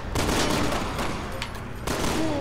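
Rapid bursts of gunfire from Resident Evil 6, dense and continuous for about two seconds, loud and close, with a brief dip before the shooting surges again.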